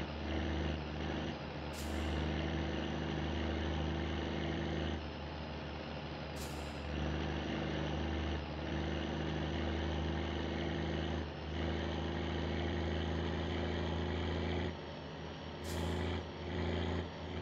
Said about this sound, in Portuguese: Moleque, olha o caminhão, como é que vai?